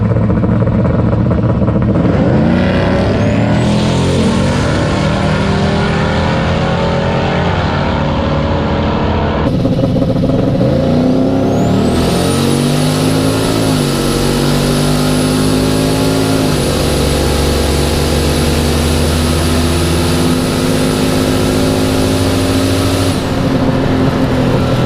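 A $6000 drag car's turbocharged engine held steady at 2600 RPM on the launch line, a loud, close, sustained droning roar with a rising whistling whine that climbs and then holds steady.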